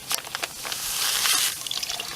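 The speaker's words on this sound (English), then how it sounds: "Now I'm going to pour the sugar in." Granulated sugar poured into water to mix a sugar syrup for feeding honey bees, a hissing, sandy rush that swells in the middle and trails off into small drips and trickles, close by and fairly quiet.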